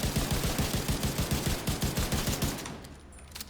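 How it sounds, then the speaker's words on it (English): Rapid automatic rifle blind fire in Rainbow Six Siege, a steady burst of evenly spaced gunshots for about two and a half seconds, loud and close, then stopping into a fading tail. "if you blind fire with, you know, with your rifle like this"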